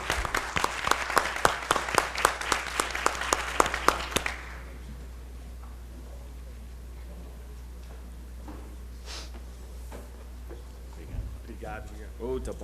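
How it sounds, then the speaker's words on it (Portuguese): Audience applause at a business awards presentation, a dense burst of clapping from a crowd that fades out after about four seconds, followed by quiet room tone and speech. "uma salva de palmas"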